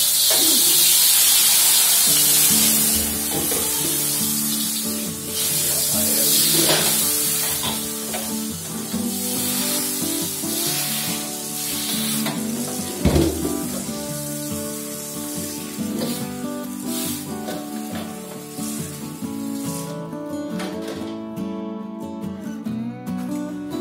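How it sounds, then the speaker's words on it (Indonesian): A sharp burst of hissing sizzle as water is poured onto a hot stainless steel pan, fading into a quieter bubbling crackle under other steady background sounds. "wajan yang panas ini akan langsung kita siram dengan air"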